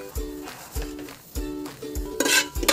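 Whole spices of cloves, cinnamon, star anise and pepper go into hot oil for chicken biryani, with a light sizzle under repeated metallic clinks of a spoon against the pan, close and moderately loud.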